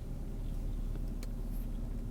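A steady low rumble of car engines and road noise fills a narrow street on the west side of Norwich, Connecticut, as two cars pass close by, heard from inside a moving vehicle without talking.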